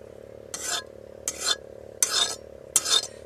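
Onions dropped into melted butter in a pan, heard as four evenly spaced bursts of sizzling and stirring against a quiet background, with no talking.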